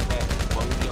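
Machine gun fire in a video game, rapid evenly spaced shots rattling continuously and close, with a voice talking over them.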